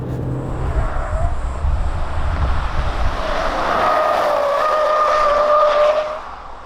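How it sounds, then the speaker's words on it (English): A 2019 Chevrolet Colorado pickup truck with leaf-spring rear suspension corners sharply, its engine droning and building with a rising whine and faint tire squeal. It is heard from inside, loud and continuous, then eases off at the end. "it's taking corners quite nicely, even very sharp ones"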